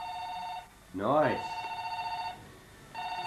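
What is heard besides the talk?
telephone ringing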